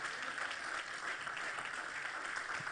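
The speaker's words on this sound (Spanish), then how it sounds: "Dale un aplauso fuerte al Señor." A church congregation applauds during a Spanish-language service, a soft, fairly distant wash of clapping that holds steady for a few seconds before a sharp loud burst at the very end.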